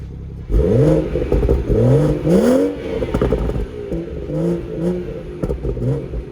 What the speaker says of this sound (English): let's have a quick listen to the exhaust